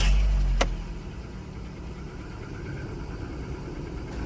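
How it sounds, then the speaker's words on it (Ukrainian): A 2005 Volkswagen Golf 4 with a 1.6 engine idling from a cold start, a low steady hum heard close by after a short knock at the start, with no talking. "Машина зараз на холодно лізе."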